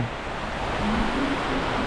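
Water flushes manure through a dairy cow barn in Canada, a steady loud rushing wash with no pauses and no talking.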